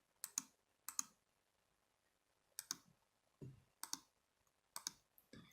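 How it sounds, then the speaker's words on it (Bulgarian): Computer mouse buttons clicking during a Minecraft session, with sharp close clicks arriving in quick pairs at irregular intervals and near silence in between. "Ако чувате кликане от мишката ми"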